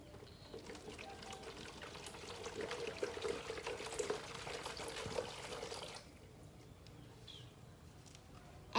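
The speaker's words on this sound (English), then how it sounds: "Fill water into the bottom of the pot." Water poured into the bottom of a self-watering plant pot, a steady close splashing trickle for about six seconds before dropping to quiet room background.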